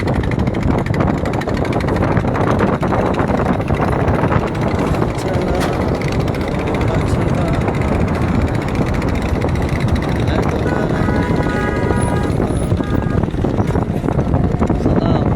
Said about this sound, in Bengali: দেখুন এখানে নৌকা ট্রলারগুলো কীভাবে যাচ্ছে